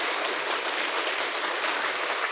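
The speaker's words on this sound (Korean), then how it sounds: "우리 하나님께 영광의 박수를 Let's 돌립시다." A large congregation at a world mission conference applauds, a dense, even wash of clapping that stays loud throughout, with no speech.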